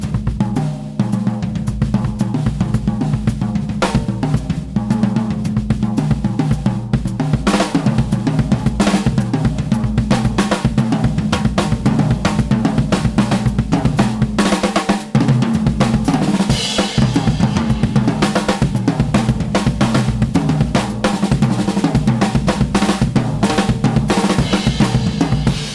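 Solo drum kit build moving from snare into syncopated patterns grouped in threes, fours and fives, dense and continuous with cymbals, loud and close throughout.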